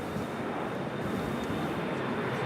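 A plane at Los Angeles LAX airport gives a dense, steady engine roar that fills the whole clip, loud and unbroken, with no voices over it.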